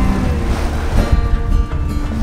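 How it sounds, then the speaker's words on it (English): Strong wind roars across a small sailboat at sea, a loud continuous rush with buffeting gusts and wave noise mixed in. "we have some good wind now."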